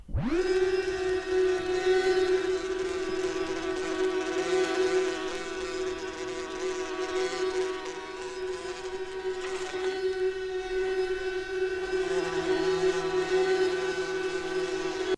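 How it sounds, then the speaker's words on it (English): Giant killer bees from a 1982 sound effects vinyl record: a loud, steady droning buzz of swarming insects, sustained and unbroken throughout, with no talking. "I recorded the giant killer bees"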